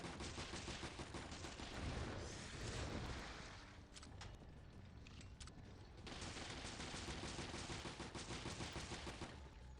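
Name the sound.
machine gun fire in video game Resident Evil Revelations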